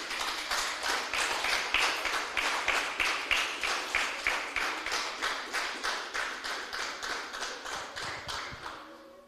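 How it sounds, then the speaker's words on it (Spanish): A church congregation claps together in a steady, rhythmic beat, loud and sustained, fading slightly at the end with no voices over it. "Denle un fuerte aplauso al Señor"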